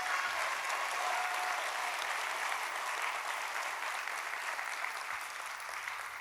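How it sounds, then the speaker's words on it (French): Sustained audience applause at a fashion show, dense and steady throughout, fading slightly toward the end, with no talk over it. "que je vous demande déjà d'applaudir"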